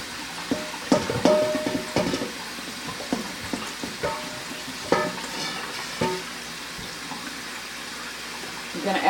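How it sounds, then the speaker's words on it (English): Hot water runs from a kitchen tap into a sink, a steady splashing hiss broken by clinks and knocks of dishes being handled, with occasional speech. "Now we're going to have some hot water."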